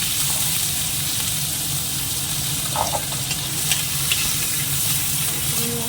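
Shrimp fries in hot oil in a wok with dried chilli and cumin, a steady close sizzle and crackle with occasional stirring scrapes.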